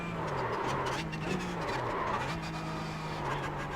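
A car brakes into a corner in a sim racing video game, its engine note dropping in steady, continuous game audio with a faint tire squeal, loud and unbroken.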